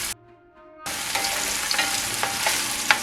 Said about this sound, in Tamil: இதை கொஞ்சம் கோல்டன் ப்ரௌன் வரையும் இதை வதங்க விடுவோம்.